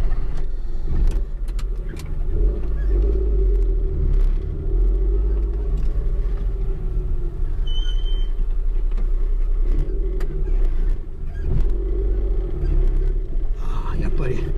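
A 1984 Suzuki Fronte 550 SS40 kei car driving, with a steady low engine and road rumble heard from inside the cabin, continuous throughout.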